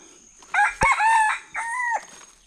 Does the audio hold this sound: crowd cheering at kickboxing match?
no